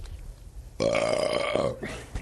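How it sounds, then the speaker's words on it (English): A person makes one loud, drawn-out burp at close range, with faint room sound before and after it. "There's my burp."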